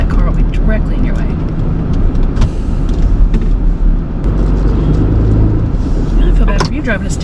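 A stick-shift truck climbs and winds along mountain roads, its engine and road noise forming a steady, loud, heavy rumble heard from inside the cab for the whole stretch.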